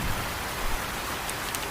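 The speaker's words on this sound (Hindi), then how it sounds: "अचानक बारिश और आंधी तूफान आ जाता है।" Steady rain with a broad, continuous hiss across the whole stretch, a few slightly brighter drop patterns near the end, and no clear thunder rumble standing out.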